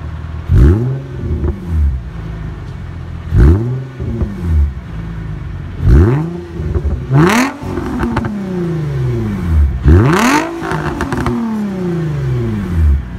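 An Infiniti G35 coupe with an Invidia Gemini exhaust revs repeatedly, each blip rising sharply and falling back to idle in a loud, close series of about six throttle bursts.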